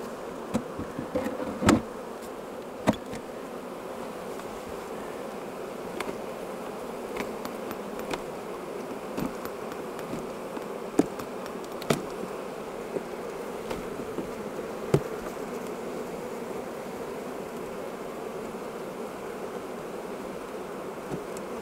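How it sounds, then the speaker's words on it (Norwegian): Steady close buzz of many honeybees while a beehive box is being emptied, with occasional sharp clicks and knocks from handling the box and no talking. "Nå skal vi tømme den for bier."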